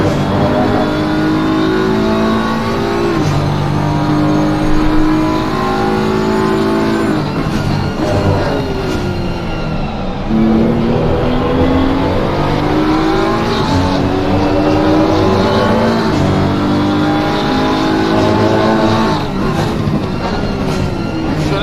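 GT3 race cars at full throttle on the Misano circuit, engines revving and shifting through gears with rising and falling pitch sweeps, loud and continuous, with a brief tire squeal and no voices.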